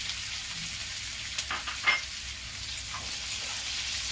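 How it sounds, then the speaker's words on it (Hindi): Chopped green chilli and onion sautéing in a pan for crispy veg cutlets: a steady, moderate frying hiss with a few brief scraping stirs, heard alone without speech. "इसे मैं 2-3 मिनट भूनूंगी"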